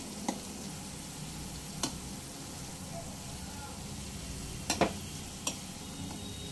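Sliced onions fry in oil until crispy, giving a soft, steady sizzle with a handful of sharp clicks and pops from stirring, fairly quiet throughout.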